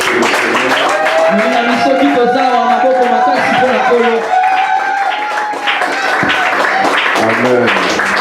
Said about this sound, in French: on acclame encore très fort pour le Seigneur